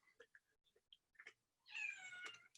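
A house cat lets out one long, wavering meow, fairly loud and close in a quiet room, after a few soft scattered clicks and small noises.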